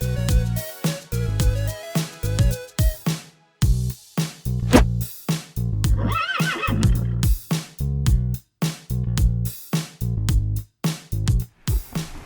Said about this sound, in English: Let's go get ready to ride a horse now.